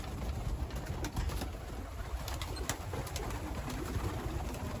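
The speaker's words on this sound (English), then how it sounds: "What's these, pigeons?" Pigeons coo in a rural coop with nesting eggs, a steady, close, moderately loud murmur of soft cooing and fluttering with no talking.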